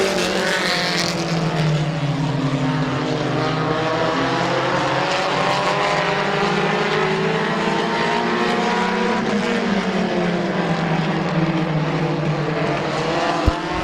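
Race cars at Midvale Speedway, a loud, sustained engine roar with rising and falling pitch as cars pass and battle through the turns, continuous over the whole stretch.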